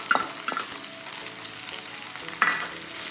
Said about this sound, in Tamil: வரமிளகாவையும் சேர்த்து ஒரு மிக்ஸ்.